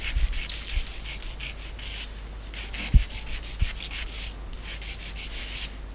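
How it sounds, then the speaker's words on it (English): Natural fingernails filed with a nail file make close, soft rasping strokes in a repeated back-and-forth rhythm of short scratchy bursts, quiet and alone. "So we're just filing away."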